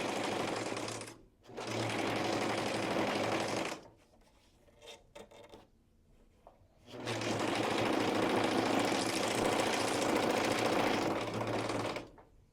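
A bernette b64/b68 overlocker stitches a 2-thread rolled hem along a fabric edge, its fast, even motor whir running loud and close in two long bursts separated by a quieter pause with light handling clicks.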